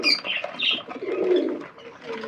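Pigeons at feeding time murmur in low, throaty coos close by, mixed with a few brief chirps and soft shuffling, with no talk over them.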